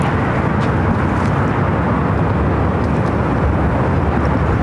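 A Lufthansa airliner taxiing at LAX, a loud, dense broadband jet-engine roar, steady and fairly close, with no voices.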